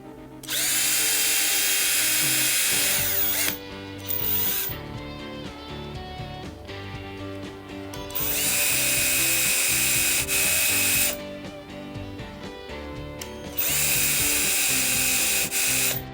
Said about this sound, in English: I'm going to take my drill and I'm just going to make a hole